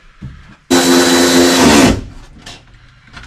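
A power tool briefly drives a bolt on the door of a 2002 Ford F350, giving one loud, steady, close whir of just over a second that cuts off sharply, with quieter handling noises around it.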